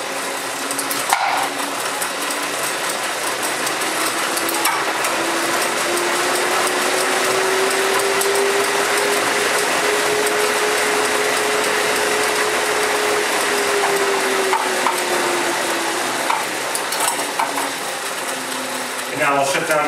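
Elite Direto XR smart trainer under a hard sprint, a steady mechanical whir with a slowly rising and falling tone as cadence builds, continuous and fairly loud throughout.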